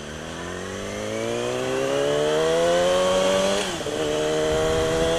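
A motorcycle engine revs steadily upward in pitch, climbing loud and close, then hitches briefly at a flat spot in the rev range before picking up again.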